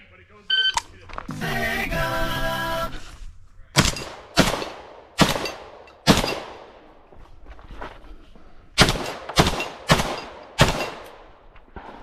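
At a multi-gun shooting match, a shot timer beeps, then about a dozen loud, close gunshots ring out in uneven bursts with short pauses between groups.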